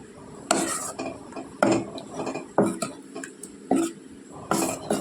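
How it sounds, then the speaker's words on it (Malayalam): Ground spice paste being mixed into mango pieces for mango pulisseri, with a spoon clinking and scraping against the vessel in a series of uneven strokes, close and moderately loud, with no talking. "മാങ്ങയിലോട്ട് ചേർക്കുകയാണ് നല്ലപോലെ മിക്സ് ചെയ്യണം"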